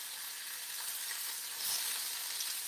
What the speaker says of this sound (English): it's got like a little crisp, like I can hear it and feel it when I run my spatula over it